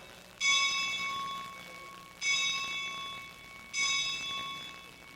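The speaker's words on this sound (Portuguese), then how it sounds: "Paulo, toca o sino." A church bell is struck three times in a slow, even rhythm, each loud metallic ring decaying before the next, close and clear with no voices over it.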